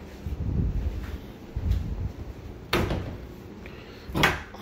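A closet door in a rental house opens with a few soft thumps and a sharp knock near the end, set against quiet room noise.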